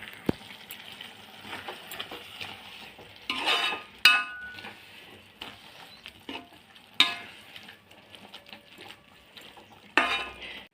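Ground coconut and cumin paste being sautéed in a pan, with a soft background sizzle broken by scraping and clinking of a spoon against the metal pan, several louder stirring knocks in bursts.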